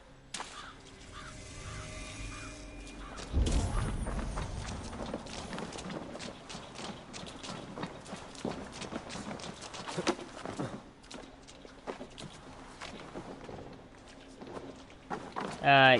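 Horses galloping in Assassin's Creed Valhalla: a steady run of hoofbeats with tack and rustle, moderately close, running beneath speech throughout.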